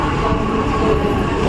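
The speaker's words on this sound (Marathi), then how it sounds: "7:19ची विरार ट्रेन आलेली आहे" A Virar local commuter train pulls into a station, its loud, steady rumble of wheels and carriages filling the whole stretch close by, with no voices over it.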